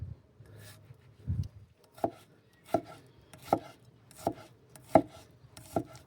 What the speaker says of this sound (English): a bit of rough chopping